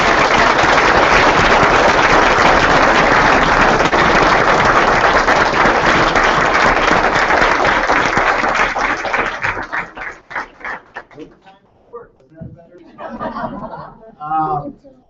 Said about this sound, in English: Well, let's give him one more round of applause.